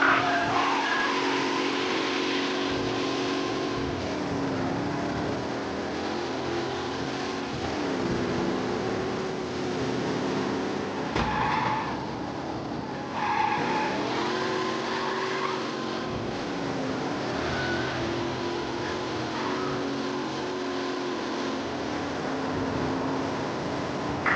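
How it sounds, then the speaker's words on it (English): Race car in Mafia: Definitive Edition speeding through city streets, engine droning and revving continuously with tire squeals and skids as it corners, loud and close, with no talk. "A race car driving at speed through the city."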